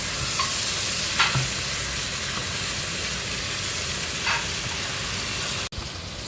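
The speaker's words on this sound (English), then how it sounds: "So you keep mixing, you keep turning." Courgette and chicken sizzle in a pan while being stirred and turned, a steady close frying hiss with occasional soft scrapes of the utensil, no voices.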